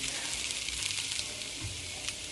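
Par-cooked potatoes sizzle steadily in a frying pan as they are stirred, a constant faint crackle with soft scraping and no voices.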